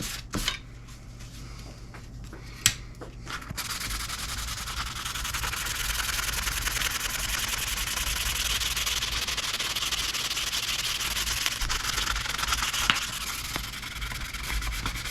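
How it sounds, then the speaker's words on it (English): Steady, close rasping of 1000 grit sandpaper rubbing over a white ash guitar body, a continuous even hiss that runs almost without a break after a few opening taps and handling knocks. "This particular sandpaper here is 1000 grit"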